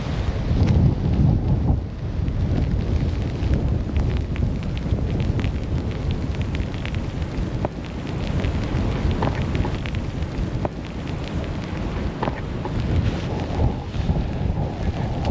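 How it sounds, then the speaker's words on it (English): Strong gusts of a winter storm roar steadily across the microphone with dense low-frequency buffeting, loud and continuous throughout, swelling and easing slightly with no voices present. "Just gotta wait this one gust out."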